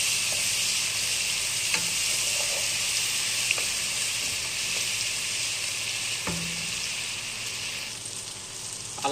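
Ginger-garlic paste frying in oil gives a steady, loud sizzle throughout, with a few faint utensil taps and a brief scrape near the middle; no voices.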